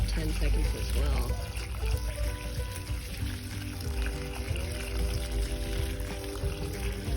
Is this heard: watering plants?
yes